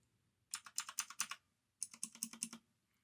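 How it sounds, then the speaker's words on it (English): Shift and caps lock keys on an E-YOOSO Z686 60% mechanical keyboard clack up close in two quick bursts of about eight presses each, separated by a brief pause. "now I'm gonna go to the shift and caps lock"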